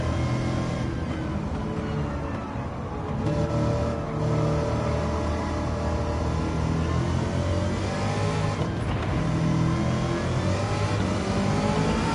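Engine-swapped Mazda MX-5 ND in Gran Turismo 7 pulls steadily in a high gear, a loud continuous mechanical drone that stays fairly even throughout with no talk over it.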